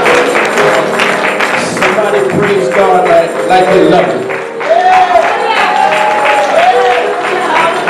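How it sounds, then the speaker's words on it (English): Church congregation clapping and calling out during a Sunday morning sermon, dense steady applause mixed with loud voices and a preacher talking over it throughout. "Somebody give God a hand clap."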